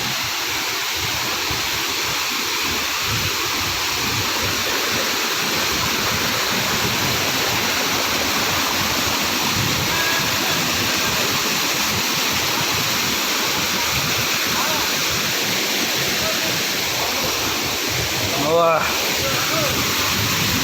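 Devjhar waterfall roars in a loud, steady, unbroken rush of falling water, close and constant throughout, with a brief voice rising faintly over it near the end.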